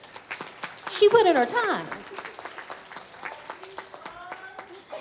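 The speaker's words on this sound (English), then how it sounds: "So clap it up." Brief burst of audience clapping at a panel discussion event swells and fades, with people talking over and around it and a voice carrying on through the quieter stretches.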